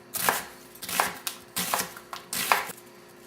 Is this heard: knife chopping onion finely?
yes